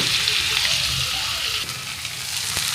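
Chicken liver pieces sizzle in a little ghee in a pan, a steady broad frying hiss with faint stirring, close and continuous throughout.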